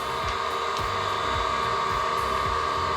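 A Raitool T4 mini table saw idles at its lowest speed setting, giving a steady, close motor whir with a constant high whine and no talking.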